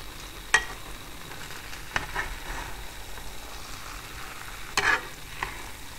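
A spoon gently stirs moist bhuna khichuri of moong dal and rice cooked in mustard oil, with a few soft scrapes and clinks against the pot over a faint simmering background.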